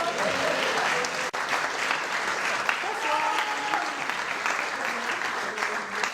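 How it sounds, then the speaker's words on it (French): An audience at a French stage show applauds two volunteers called up on stage; sustained, full clapping from a large crowd with a brief break in the middle, voices faintly mixed in. "On peut l'applaudir aussi, hein."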